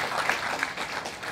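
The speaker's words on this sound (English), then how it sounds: "let's first of all give everyone's idea a big round of applause" A brief round of applause for everyone's ideas at a talk, a quick patter of many hands clapping at moderate volume with no speech over it.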